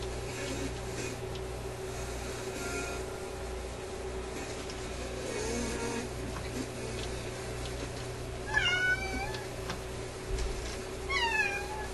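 A pet cat named Peanut meows a couple of times, asking to go outside, faint and somewhat distant over a steady background hum in a room.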